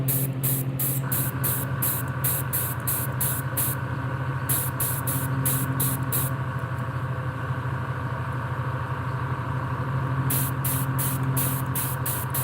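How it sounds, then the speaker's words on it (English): An airbrush hisses in short repeated spray bursts while painting a perch pattern on a largemouth fishing lure, over a steady compressor hum that runs throughout. "And now this freaking airbrush wants to try to correct itself."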